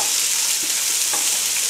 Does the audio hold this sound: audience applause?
no